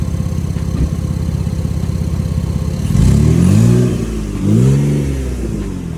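A Ford Explorer with a misfire, its engine running at a rough, pulsing idle before being revved twice in quick succession, each rise swelling loudly and falling back, heard close up with no talk.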